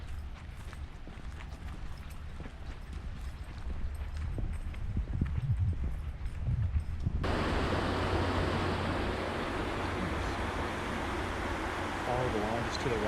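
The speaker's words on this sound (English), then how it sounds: "you can already hear the rapids from the Hillsborough River" Rapids on the Hillsborough River in a Florida state park: a steady, broad rush of moving water swells in partway through and holds loud and close, replacing quieter outdoor ambience.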